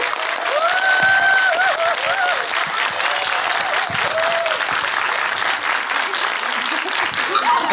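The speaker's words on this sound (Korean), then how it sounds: "감독님과 배우분께 큰 박수 한번 부탁드리겠습니다" Loud, sustained clapping from a film festival audience honoring a director and actor after a screening Q&A, thick and continuous throughout with faint voices and cheers mixed into the crowd noise.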